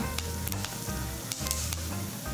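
Fenugreek seeds frying on a low flame for an all-in-one pickle powder: a dense, continuous sizzle with scattered sharp pops and light stirring clicks, close and steady with no talking.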